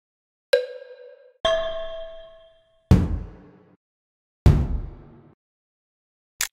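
Instrument sounds tapped in the Cat in the Hat Sounda-pa-looza PBS Kids music game: five separate hits, a couple of bell-like rings followed by two booming drum strikes and a short click, each decaying into silence.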